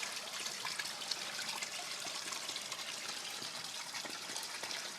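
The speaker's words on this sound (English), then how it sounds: "feeds into a little waterfall and then again back into the system" Small waterfall in a greenhouse, fed by the outflow of a fish filter system, splashing and trickling in a steady, continuous wash of water that stays close and moderately quiet throughout.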